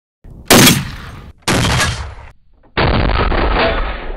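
Three very loud, booming shots from a big .50 caliber sniper rifle, each a sharp blast trailing into a long rumbling decay, with brief gaps between them and no voices.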